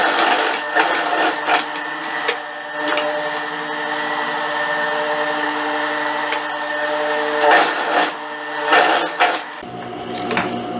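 A sewing machine stitches the yoke of a dress, humming steadily up close with small clicks and knocks of fabric handling throughout.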